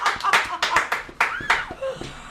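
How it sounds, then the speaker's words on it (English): A few people clap in short, uneven bursts during a birthday podcast, each sharp hand smack close and distinct, with talking and some laughter mixed in. "I think that deserves a round of applause."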